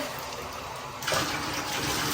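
Water runs steadily into a bathtub during rinsing, a broad continuous rush that swells louder about halfway through, with no talking.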